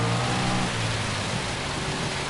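Torrential rain in the racing video game Gran Turismo 7, a loud constant broadband hiss of downpour with a low rumble beneath, steady throughout with no talking.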